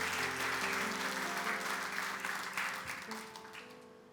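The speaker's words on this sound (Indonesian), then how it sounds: "Saudara tepuk tangan enggak mantep ini" Congregation applause during a Sunday worship service at Bethany House of Glory in Sidoarjo, a steady wash of clapping over sustained organ or keyboard tones that gradually fades toward the end.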